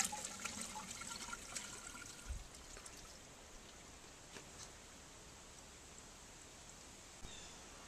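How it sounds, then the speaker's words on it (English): A toilet flushing into a tank filled with just under 4.5 gallons of water, a steady rushing and trickling stream that is loudest early on and slowly eases off, heard alone. "I'm going to see how much water actually goes into the jug when I flush the toilet."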